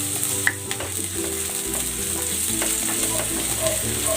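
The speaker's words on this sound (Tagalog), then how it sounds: "Igigisa ko na ito ng bawang. At ang sibuyas" Garlic and onion sautéing in a pan, a close, steady sizzle with stirring scrapes and clinks from a utensil against the pan.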